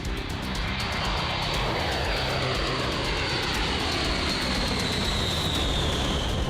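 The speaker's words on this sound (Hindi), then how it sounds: "अमेरिका ने अपने सबसे घातक B-52 बॉम्बर को रेडी रहने का ऑर्डर दे दिया है" A B-52 bomber's engines roar as a steady, loud, broadband rumble with a rising high-pitched whine, continuous and unbroken, no voices.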